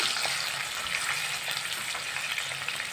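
Large chopped onions for a potato curry frying in a pan, giving a steady, close crackling sizzle that runs evenly throughout with no voices.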